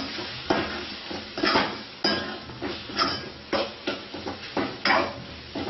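Coriander-cumin powder is mixed into misal masala with tomatoes in a pan, a spoon scraping and knocking in a steady rhythm of roughly ten close, evenly spaced strokes.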